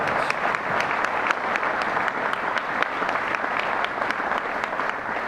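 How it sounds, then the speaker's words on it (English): Sustained applause from a banquet audience at a coaches association awards dinner honoring a career media award recipient, a dense steady wash of many hands clapping at moderate distance with no voices standing out. "Let's give him a round of applause."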